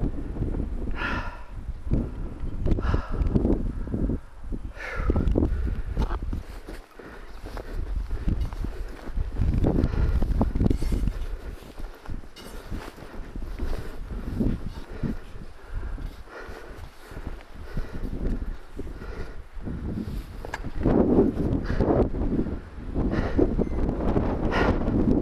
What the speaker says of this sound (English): wind is kicking up now